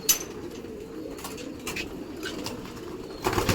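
Soft, low pigeon coos repeat faintly over a steady outdoor hum on a waterlogged rooftop, with a few light rustles and a brief flutter near the end.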